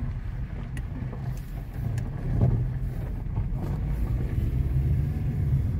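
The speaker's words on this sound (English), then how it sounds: "Listen to this motor." A 2013 Hyundai Elantra engine with loose pistons idles in a steady low rumble, continuous and fairly close, with some wind noise over the microphone and no talking.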